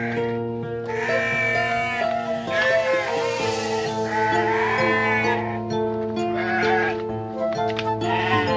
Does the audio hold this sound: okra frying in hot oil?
no